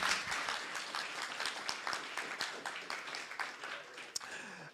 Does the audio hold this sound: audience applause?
yes